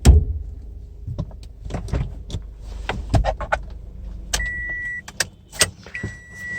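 A series of sharp mechanical clicks, clunks and latch knocks close by as the hood of a 2008 Toyota Corolla Altis 1.8 E140 is released and lifted, with a short electronic beep.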